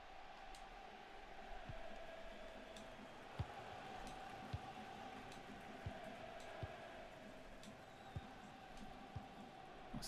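Rain falls throughout a football match in the FC 26 video game, a steady, soft hiss with scattered sharper drops, heard alone without commentary.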